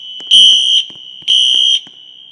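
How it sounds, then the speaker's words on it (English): Classroom Wheelock NS fire alarm in a school fire alarm video game, two loud buzzing horn blasts in a steady pulse, with a shrill continuous tone sounding underneath. "Classroom number 1 fire alarm."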